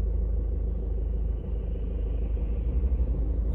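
A car passing by on a road, a low, muffled rumble of its engine and tyres that holds steady and swells slightly toward the end, heard close without any voices.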